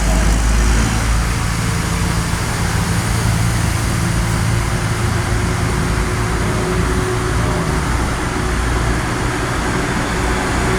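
Buses rolling in a convoy at SMB 2 airport in Palembang, a continuous loud rumble of heavy engines and road noise with a low drone throughout, no pauses.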